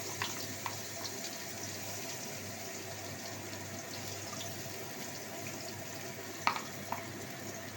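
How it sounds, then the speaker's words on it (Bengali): Chopped onion fries in a pan with a steady, faint hissing sizzle and a few small clicks and taps, continuous and close, without talking. "পেঁয়াজটা হালকা ভাজা ভাজা হবে"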